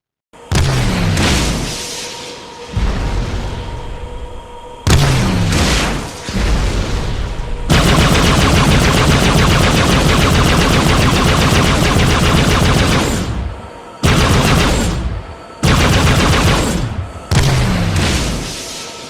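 Weapon systems on a Halo mod aircraft in Arma Reforger fire in loud, booming bursts: short volleys, then one long sustained stretch of rapid fire, then more short bursts, close and overpowering.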